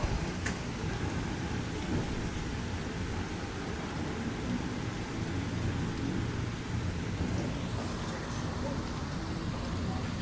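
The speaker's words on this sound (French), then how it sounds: "Ça y est, on entre à l'intérieur de l'orage. Il commence à pleuvoir." Rain starts falling during a strong thunderstorm in Bordeaux, a steady, diffuse hiss over a low rumbling background, with no voices heard.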